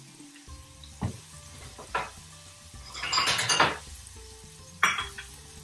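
Onions and ingredients for a lamb Madras softening in a hot pan, a soft sizzle under several sharp clinks and scrapes of a utensil and a louder burst of frying midway.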